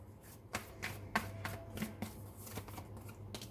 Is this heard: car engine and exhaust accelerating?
no